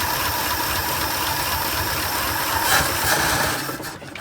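A 1976 Squarebody truck engine idles after sitting for 20 years, a steady, loud, close mechanical drone with even rumble and no talking.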